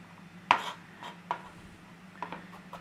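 Garlic being chopped with a knife on a board, giving a few sparse, soft knocks and light scraping, one louder chop near the start, heard close and without talk.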